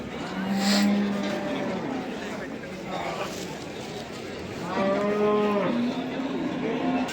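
Buffalo lowing at a livestock market in Dhanaula, with several drawn-out moos rising over a steady crowd murmur and people talking nearby.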